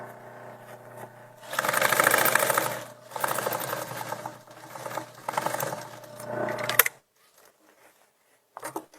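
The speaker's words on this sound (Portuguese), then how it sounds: "Costurinha de segurança, ponto grande, só para prender esse bolso aqui, pra gente poder trabalhar." Sewing machine running a long safety stitch to hold a pocket on a bag, in several close bursts of rapid whirring, then stopping with a few faint clicks.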